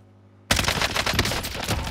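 Rapid gunfire from a Call of Duty match on the Caldera map cuts in abruptly after a quiet moment and keeps going as a dense, loud, continuous burst of shots.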